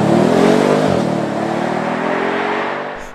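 A 4-litre, 450 hp V8 in an Audi S6 Avant estate revs up strongly and then settles into a deep, loud, close rumble, with the pitch slowly falling away.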